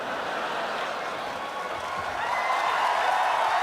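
A live podcast audience claps and cheers steadily, the applause swelling louder toward the end, with scattered chuckles and no clear speech.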